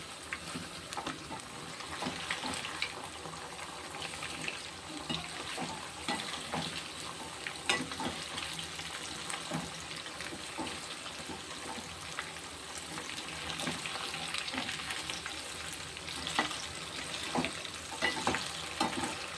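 Pieces of ray fish 65 fry in hot oil with a steady, moderate sizzle while they are turned over. Occasional soft clinks and shuffles sound through the bubbling, and no one speaks.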